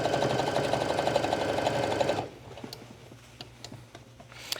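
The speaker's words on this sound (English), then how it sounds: "you can see how I'm sewing in this large circle" Home sewing machine stitching stretch fabric for yoga pants in a large circle toward the hem, a steady close rattling hum for about two seconds, then it stops, leaving faint ticks and light handling sounds.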